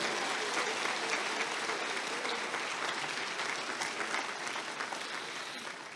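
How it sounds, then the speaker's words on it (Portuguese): A church congregation applauds during a sermon, a dense, continuous wash of clapping that holds steady for several seconds and fades slightly toward the end. "Glória a Deus, pode aplaudir"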